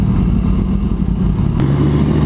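A Kawasaki H2 motorcycle engine runs loud and close with a steady, rough mid-range drone and slight shifts in pitch, with no voices over it.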